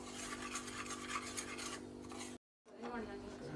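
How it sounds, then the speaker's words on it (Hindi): Semolina being stirred and dry-roasted in a pan for halwa, a steady close scraping and rasping that breaks off briefly, then resumes. "अब ये सूजी जो है मैं पहले भून लूँगा, ब्राउन कर लूँगा।"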